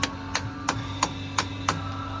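A hammer taps a big nut down onto a Freightliner kingpin during a kingpin swap: six evenly spaced metallic strikes, close and ringing, over a steady background hum.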